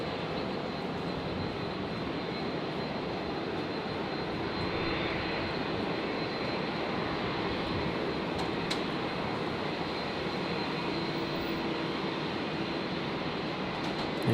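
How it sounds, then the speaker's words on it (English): Embraer Phenom business jet taxiing out for departure at Brisbane Airport, a steady broad engine roar and whine held at even loudness throughout, fairly close with no voices. "Looks like that Embraer Phenom we had arrive not too long ago has made a quick turnaround"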